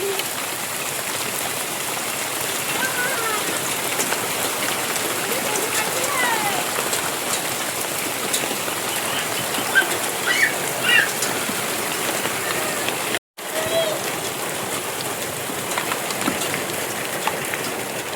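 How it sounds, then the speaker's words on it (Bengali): Heavy downpour outdoors in the Sundarbans, a steady dense hiss of rain drumming on surfaces that continues loud and unbroken, with only a momentary dropout partway through. "বাইরে যেন মুষলধারে বৃষ্টি হলো"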